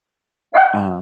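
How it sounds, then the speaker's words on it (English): Dogs bark after half a second of silence, a loud close yelp followed by a sustained harmonic bark or whine that runs to the end, with no talking over it. "And we have my dogs barking in the background."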